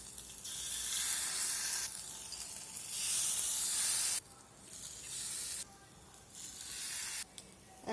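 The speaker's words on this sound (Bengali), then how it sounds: "একই রকমভাবে বাকিগুলো ভেজে নেওয়ার জন্য আবারও দিয়ে দিয়েছি বাটার" Snacks fry in butter in a pan with a loud, bright sizzle that surges and drops in bursts as pieces are moved or turned, with no talking.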